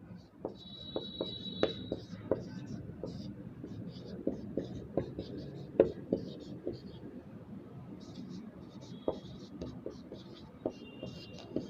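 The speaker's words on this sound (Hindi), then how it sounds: "लिख देती हूं मैं यहाँ पर" Chalk or marker tapping and scratching on a board as someone writes, close and quiet, with soft speech and low voice sounds alongside.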